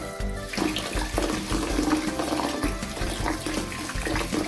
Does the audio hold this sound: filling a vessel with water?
yes